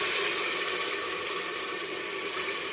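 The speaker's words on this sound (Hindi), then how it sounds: "अब ऐड करने लगा हूँ मैं पानी इसमें।" Water is poured into a pot of dal as it cooks with fried garlic-ginger paste and spices, a continuous rushing splash and hiss lasting the whole moment, close and fairly loud with no talk.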